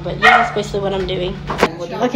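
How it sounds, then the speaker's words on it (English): A dog barks and yips in the background at a home birthday pajama party. A few sharp barks come through under a person talking close to the microphone. "Sorry about that noise in the background of my dog"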